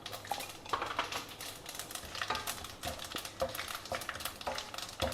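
White sesame seeds being stirred and roasted in a pan, with a steady dry rattle and rapid scraping clicks from the spoon against the pan that keep going without a break.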